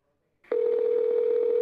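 A steady telephone line tone starts abruptly and holds at a constant pitch before a 911 emergency call, loud and alone after a brief quiet moment.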